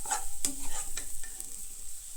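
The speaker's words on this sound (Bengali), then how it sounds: "নাড়াচাড়া করা লাগবে, নিচে যেন না লেগে যায়।" A spoon stirs taro mash frying in a pan. A soft sizzle runs underneath, with a few sharp scrapes and clinks against the pan. The sound is close and fairly quiet, and no one speaks.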